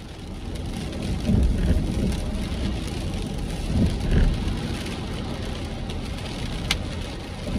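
Steady rain falls in Eureka in Humboldt County on the Pacific Northwest coast, making a continuous close hiss with a few heavier gusts and what may be passing traffic. No one speaks.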